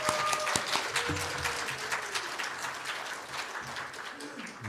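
A church congregation claps at the start of a sermon, a soft, scattered round of applause heard from a distance, fading as a faint voice and a brief tone come through.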